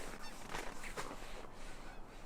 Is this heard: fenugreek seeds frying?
no